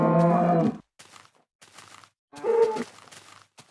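Minecraft Alpha cows let out loud, low moos in the block-building game, two long calls separated by quieter grunting snorts, heard close with no other sounds.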